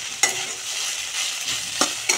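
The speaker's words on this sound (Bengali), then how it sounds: "এই ফাঁকে দেখো আলু ভাজাটা একটু নেড়ে দিই" Potatoes frying in oil in a pan, a bright continuous sizzle with three quick scraping stirs spaced across a couple of seconds, close and fairly loud.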